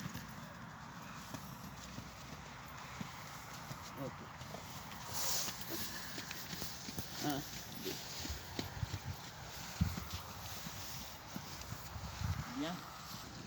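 A horse walks during a dressage lesson in a riding arena, its hooves making a faint, even clip-clop throughout while a French-speaking instructor talks over it.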